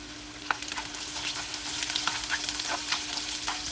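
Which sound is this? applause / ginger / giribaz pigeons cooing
ginger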